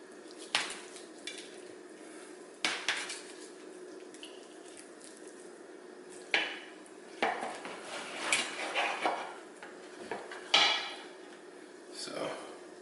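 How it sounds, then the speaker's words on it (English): A knife saws down between the bones of a rack of grilled ribs, giving several sharp, scattered cracks and scraping knocks against a cutting surface, close and fairly loud, with quiet gaps between cuts and no talking. "you cut right down the middle"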